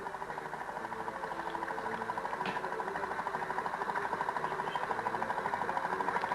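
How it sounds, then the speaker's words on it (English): A vintage Petter stationary engine runs steadily at an outdoor rural festival, a continuous rhythmic mechanical chugging and clatter with even pulses that hold for several seconds at a moderate distance, with no voices. "bring his Petzer engine along here today"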